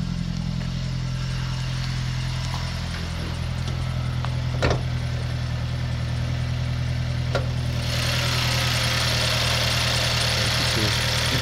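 A 2007 Mazda MPS with its factory exhaust idles steadily up close, giving an even low rumble with a brighter hiss rising toward the end. No one speaks.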